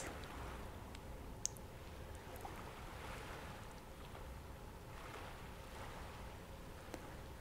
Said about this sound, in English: Listen to the sound of the ocean.